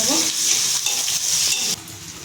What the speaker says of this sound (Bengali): সর্ষে ফুটে গেছে আমি দিয়ে দিচ্ছি পেঁয়াজ আমি ভালো করে ভেজে